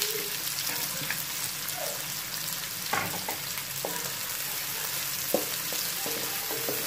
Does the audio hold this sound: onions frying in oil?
yes